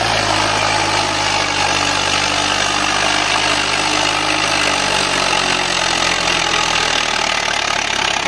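A Swaraj 744 tractor engine idles steadily nearby, a continuous loud diesel rumble with a knocking throb and no voices.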